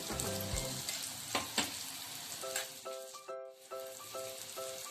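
Alu vadi fries quietly in a pan with a soft, continuous sizzle and a few stirring knocks, while a faint melodic tune plays in the background.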